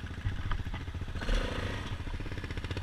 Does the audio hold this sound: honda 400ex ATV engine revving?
yes